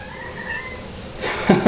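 A shy cat lets out a couple of short, close meows near the end over a steady background hum.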